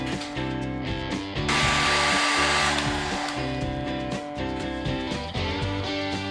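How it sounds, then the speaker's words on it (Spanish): A hair dryer blowing on a varnished plastic container, a steady close whirring rush with a louder burst of airflow in the middle. "Utilizamos ahora secador de cabello para secar."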